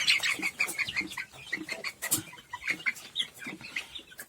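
Chickens and a rooster cluck repeatedly in a coop, with rhythmic close calls and sharp higher chirps over a few seconds.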